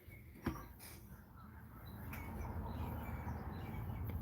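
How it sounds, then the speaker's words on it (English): Faint bird chirps and tweets come through a soft outdoor spring background hum, with a few scattered calls near and far. "I'm just listening to all these birds"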